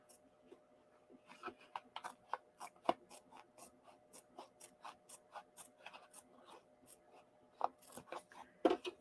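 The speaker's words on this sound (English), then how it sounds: "I need my applique scissors" Repeated soft snips of small appliqué scissors trimming fabric in an uneven rhythm, close and quiet, ending with a couple of louder clicks.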